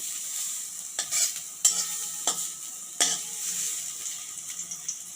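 Dried red chillies and five-spice seeds sizzle in hot oil in a pan, a steady bright hiss broken by several sharp scrapes and knocks of a stirring spoon, near and clear.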